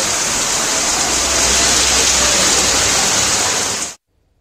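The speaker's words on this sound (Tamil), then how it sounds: "காஞ்சிபுரம் மற்றும் சுற்றுவட்டார பகுதிகளான ஓரிக்கை, செவிலிமேடு, வாலாஜாபாத், வெள்ளைக்கேட் உள்ளிட்ட பல்வேறு இடங்களில் கனமழை பெய்தது." Heavy rain pouring down in Kanchipuram, a steady loud hiss of dense downpour that carries on unbroken for about four seconds before cutting off abruptly.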